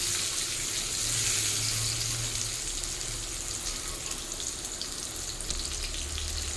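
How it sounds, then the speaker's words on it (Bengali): Pointed gourd (potol) fries in an oil-filled pan over a flame moved between high and medium-low, giving a steady, fairly loud crackling sizzle throughout with no voices. "ফ্লেমটাকে মাঝে মধ্যেই হাই আর মিডিয়াম টু লোতে রেখে ভাজতে হবে।"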